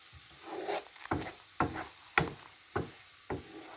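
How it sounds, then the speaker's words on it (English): Spices being fried and tossed for egg fried rice, with six or so distinct scraping stir strokes at a steady rhythm over a faint sizzle, close but moderate in level and without speech. "So let's add our spices. And they're going to mix those, toss and turn those"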